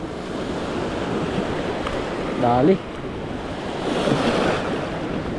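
Ocean surf washes in continuously with wind buffeting the microphone, waves surging louder toward the end; a brief spoken word interrupts midway.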